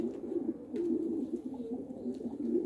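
Pigeons coo in a low, continuous murmur, fairly close and moderately soft, with no voices over them.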